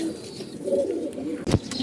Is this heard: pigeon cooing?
yes